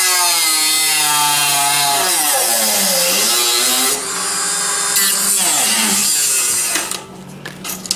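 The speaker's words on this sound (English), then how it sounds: "I got my little Dremel tool here." A Dremel rotary tool cuts into a wooden fiddle body, its high whining grind loud and steady, pitch dipping and rising as the bit bites, then easing off near the end.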